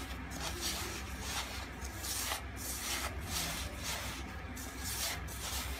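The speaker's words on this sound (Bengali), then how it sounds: "এবারে এটা আমরা হাত দিয়ে ভালো করে মাখিয়ে নেব" Mawa (khoya) dough mixed with a little rose or kewra water is kneaded by hand for kalo jam, giving a steady, soft rubbing and squishing texture with faint repeated pulses, close up and without talk.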